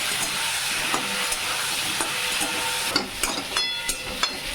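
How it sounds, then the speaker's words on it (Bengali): Pointed gourd (potol) fries in a pan, a continuous close hiss and sizzle broken by small clicks and scrapes of stirring, with no speech. "পটলটা ভাজা হচ্ছে"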